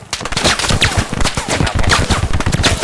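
A PGM Hécate II sniper rifle fired at a long-range test, with loud sharp cracks and rapid repeated impulsive bursts echoing close by and filling the clip.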